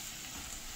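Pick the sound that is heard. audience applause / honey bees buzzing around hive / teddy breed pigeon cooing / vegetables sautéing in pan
vegetables sautéing in pan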